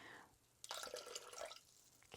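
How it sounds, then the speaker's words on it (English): Water poured into a bowl for sourdough dough, a quiet splashing trickle that starts abruptly, runs for about a second, then tapers off, heard up close with faint room noise. "I'm going to add 385 grams of water"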